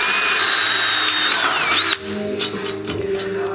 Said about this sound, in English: don't go so fast that your drill is maxed out, because it's just gonna wear the bit out